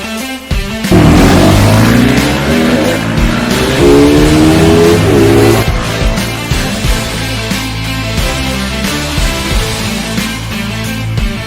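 A KTM RC200 motorcycle accelerates hard on a test ride, its engine note climbing through the gears in rising sweeps, loud and close, then settling into a steady roar.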